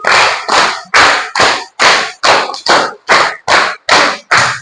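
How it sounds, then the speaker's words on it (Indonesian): A group claps in unison in a patterned rhythm, twelve sharp loud claps in evenly spaced bursts, close and alone with no talking between them. "Sekarang coba tepuk 5 2 kali."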